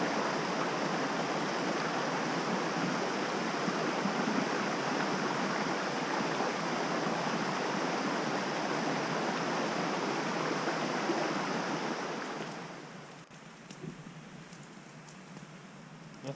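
A creek rushes steadily at a backcountry campsite in North Carolina, a broad, even wash of flowing water that holds constant, then dips slightly quieter near the end with a few faint clicks.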